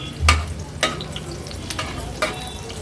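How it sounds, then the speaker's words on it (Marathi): Garlic cloves and green chillies sizzle and fry in hot oil, stirred in a pan with a few sharp scrapes over a steady crackle, close and clear with no talking. "लसूण आणि मिरची आहे ना, अशी तेलावरच थोडी परतून घ्यायची आहे।"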